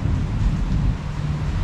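Heavy outdoor rain pours as a dense hiss over a deep, continuous rumble of thunder, steady and loud for the whole short stretch with no voices.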